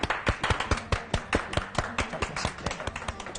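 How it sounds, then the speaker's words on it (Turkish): A single person's hands clap in quick, steady rhythm for a few seconds, close and fairly loud, with sharp, bright claps in a kitchen during a cooking outing in Turkey. "Alkış bana."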